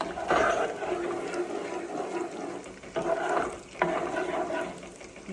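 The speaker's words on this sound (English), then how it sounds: "I'm just going to keep stirring." Butter browning in a pan is stirred steadily, giving a soft continuous sizzle with scraping stirring strokes that swell and fade every second or so, close and alone.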